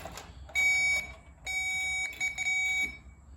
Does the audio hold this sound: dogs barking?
no